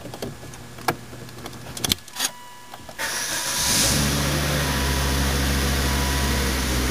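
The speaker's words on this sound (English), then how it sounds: "you can see it starts up and runs great. That 5-cylinder engine sounds perfect" A few clicks and a door-like thump, then a 2006 Volvo S40 2.4i five-cylinder engine cranks and catches, settling into a steady, even idle.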